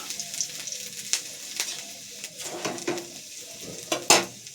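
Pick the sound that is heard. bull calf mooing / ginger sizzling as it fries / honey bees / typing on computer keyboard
ginger sizzling as it fries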